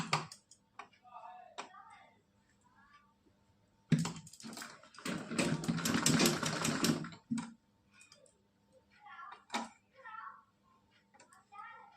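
A sewing machine runs in a single burst of about three seconds while stitching a net dress trimmed with cord, with a person talking before and after the stitching.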